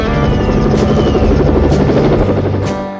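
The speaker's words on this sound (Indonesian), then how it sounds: "Ketika helikopter Kirby meninggalkan pondok Matrix" A helicopter leaves a cabin in a film scene, a loud, steady rotor thump and engine drone that holds for about three seconds and then begins to fade as it departs.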